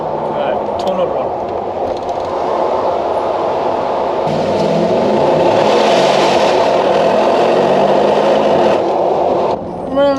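A Mercedes G63 AMG engine revving in a tunnel, a loud sustained roar that builds and holds before easing off, heard from inside the SUV with people talking over it.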